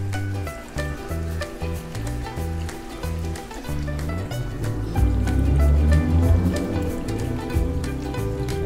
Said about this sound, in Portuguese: Pegar a mangueirinha e passar a água pra baixo.